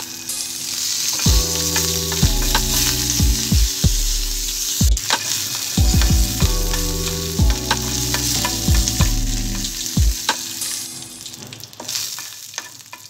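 Garlic, dried red chillies and curry leaves sizzle in hot oil as a tempering for a spinach and peanut chutney, with a steady fry hiss under repeated clunky stirring and scraping strokes in the pan.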